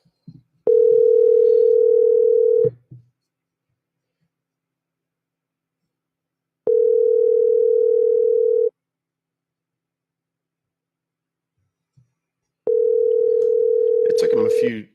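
Ringback tone from a phone call to a scammer, three steady two-second rings separated by about four seconds of silence, with a brief burst of noise at the very end.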